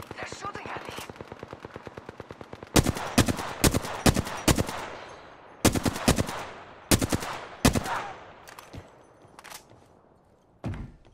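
Automatic weapon fire in the Apex Legends battle royale game, a fast steady volley of shots at first, then several loud separate bursts and scattered single shots, with no talking.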